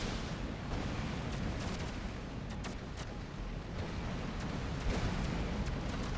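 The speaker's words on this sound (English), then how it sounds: "those explosions that are really loud, that's going to be your fragmentation bomb launchers" Continuous rumbling explosions from fragmentation bomb launchers in the space game X3 Farnham's Legacy, deep booms overlapping into a dense roar with sharper cracks now and then, loud and steady throughout.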